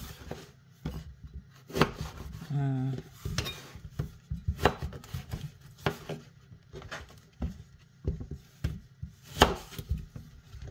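A knife cutting through a thick eggplant, giving about a dozen sharp, irregular knocks close by with quiet pauses between them and no voices.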